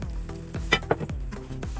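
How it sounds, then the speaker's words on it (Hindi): Hot tadka of cumin seeds and whole round red chillies poured onto kadhi, giving a quick burst of sizzling and crackling with a few sharp spits, close and fairly loud, then settling into a steady fry. "और ये कढ़ी के ऊपर डाल लेते हैं तड़का"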